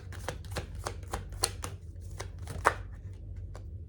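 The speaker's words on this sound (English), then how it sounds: "I'm going to pull out one more card for some more clarity." A deck of tarot cards is shuffled and a card is pulled, producing a rapid series of crisp, close card flicks and riffles.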